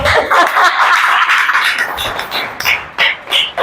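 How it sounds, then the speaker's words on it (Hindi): Church congregation clapping during a service: a broad, steady patter of many hands with sharper bursts toward the end, fairly close and loud, with scattered voices mixed in. "इनके लिए, सबके लिए तालियां बजाओ।"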